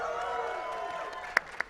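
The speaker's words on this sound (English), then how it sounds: "Cheer for the games you love, people." Audience at a Sonic 25th anniversary panel at SXSW cheering and whooping, a steady crowd roar with a couple of sharp shouts near the end.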